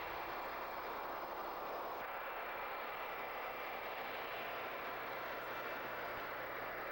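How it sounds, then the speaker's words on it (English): A loud, steady jet engine roar, broadband and unbroken, blasting continuously at close range from a Russian jet-engine snowblower clearing snow and ice off a runway. "a Russian snowblower."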